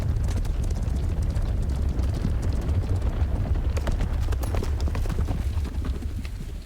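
Centaurs' hooves in Hogwarts Legacy as they ride in circles: a steady, continuous clip-clop of galloping hooves, loud and close, over a low rumble.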